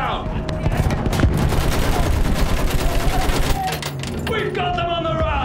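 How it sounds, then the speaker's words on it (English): Rapid machine gun fire rattles nonstop in a Battlefield 1 battle, loud and dense with booming battlefield noise, shouted voices mixed in, before tapering off near the end. "Use that machine gun! Mow them down!"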